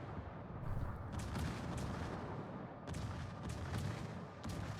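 Incoming artillery salvo in a naval warship battle video game, heavy rumbling booms and shell impacts rolling in waves over a constant low roar, faint and distant-sounding, with no talk.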